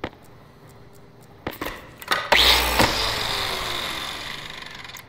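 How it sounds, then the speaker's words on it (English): A grinder machine in the space survival game Stationeers switches on after a few clicks, rising into a steady whirring grind that continues loud and alone. "Grinder, grinder, grinder, there we go."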